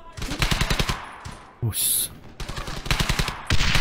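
Rapid bursts of Tommy gun fire ring out in the war video game Hell's Highway, several loud rattling volleys separated by short gaps, with a brief exclamation and other effects breaking in between.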